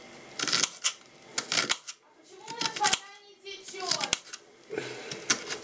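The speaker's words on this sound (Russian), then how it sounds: "Нарезаем лучочек." Sharp, irregular knife chops through an onion on a cutting board, a burst of quick strikes, a pause with a voice speaking, then more chopping close by.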